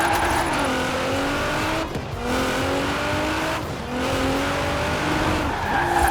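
A car drifts in Forza Horizon 4 with a loud, sustained engine whine and squealing tires, sliding in long sweeps broken by brief dips around two and four seconds, close and steady throughout.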